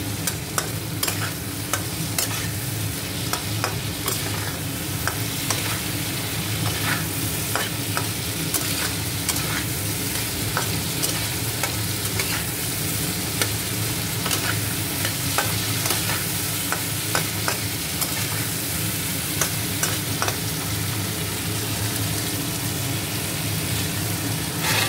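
Slit green chillies fry in a pan with a steady, close sizzle and crackle, punctuated by stirring clicks, continuous throughout with no talk.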